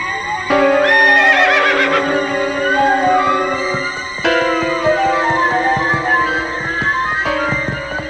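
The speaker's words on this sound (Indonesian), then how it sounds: "Ki Bekel mengendalikan kudanya sambil tangan kanannya mencengkram" A ridden horse gives a loud, long whinny lasting several seconds, with a second neigh following, close and clear over faint background sounds.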